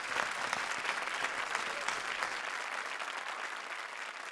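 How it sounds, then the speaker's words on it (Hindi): Studio audience of a Hindi TV comedy show clapping loudly, a dense sustained wash of applause filling the whole stretch with no talking. "एक बार फिर जोरदार तालियां"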